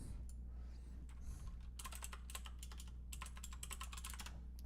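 Typing on a computer keyboard used for long coding sessions: bursts of rapid, crisp key clicks, close-miked and fairly quiet, with short pauses between runs of keystrokes over a low background hum.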